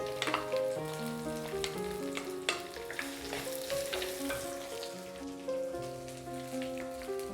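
Finely chopped shallots fry and sizzle in hot oil for a Kerala-style prawn curry, a dense, steady crackle with occasional stirring, close up and without voices.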